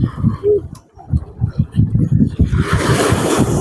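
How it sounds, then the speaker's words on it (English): Wind on a beach buffets the microphone in uneven gusts, rumbling low and strengthening into a broad hiss toward the end, while a voice talks over it in the foreground. "I apologize for the wind in the background."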